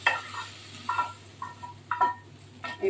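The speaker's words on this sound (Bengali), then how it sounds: "ভাজা ভাজা হয়ে গেলে নামিয়ে দেবো ভাজা হয়ে গেছে অলরেডি" Vegetables frying in a pan, heard as short bursts of sizzle and stirring scrapes at a steady, moderate level with quiet gaps between them.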